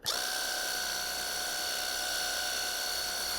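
A steady, high-pitched hissing whine of a pressure washer jet spraying a car runs continuously at close range, bursting on abruptly and holding an even roar throughout.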